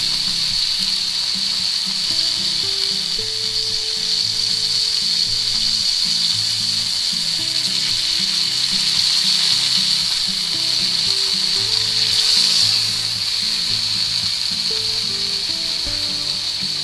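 Ribeye steak edges searing in a hot pan, a steady loud sizzle and crackle running unbroken throughout with no talking.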